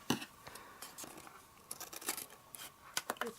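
Scissors trimming the excess from a piece of paper in a card-making project, a run of quiet, crisp snips and light paper rustles at close range with no talking.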